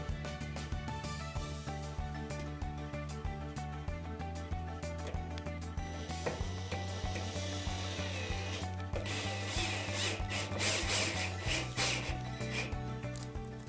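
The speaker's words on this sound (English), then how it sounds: "don't over tighten these screws, because we don't want to damage the threads" Screws being driven into a dryer drum baffle, a steady ratcheting, grinding mechanical whir that runs continuously and close with slight shifts in pitch, no voices.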